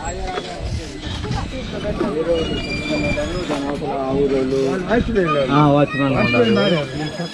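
A kids' toy train runs on its track at a fair, its rolling rumble and squeals sitting under steady crowd chatter and children's voices nearby.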